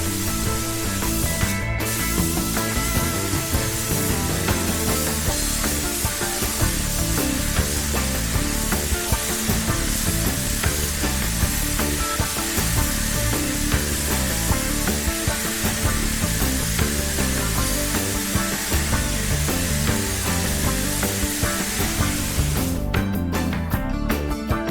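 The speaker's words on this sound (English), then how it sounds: "Apply 1 full coat at 2 bar spraying pressure." An HVLP spray gun with a 1.6 to 1.8 mm nozzle lays down a full coat of wash primer at 2 bar, giving a loud, steady hiss that runs almost unbroken for the whole stretch, with brief trigger pauses at the start and end.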